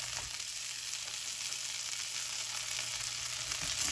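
A four-hour smoked pork chop sears in a hot pan over medium heat, giving a steady, dense, unbroken sizzle throughout, close and even.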